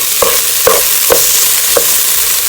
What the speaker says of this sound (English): saute that into your rice